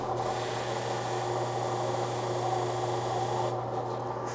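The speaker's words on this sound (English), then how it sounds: "now we chuck it up on a small spinning device here, and that's the way we can polish that break up nice" A rifle muzzle brake is polished while it spins on a small mandrel, giving a continuous steady rubbing hiss over a motor hum that drops off sharply near the end.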